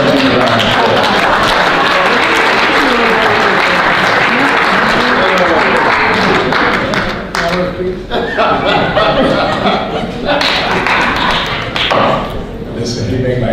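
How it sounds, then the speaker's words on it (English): A crowd at a Black History celebration applauds to welcome a city councilman, a loud, dense burst of clapping that runs steadily before thinning into scattered claps and a few chuckles near the end. "Please help me give a round of applause."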